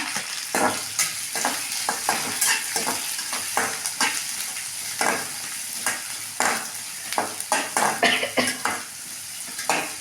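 Onions with green chilli and ginger sautéing in a pan: a bright sizzle cut by frequent sharp scrapes and clinks of a metal spoon against the pan in an irregular rhythm, close and fairly loud, without talk.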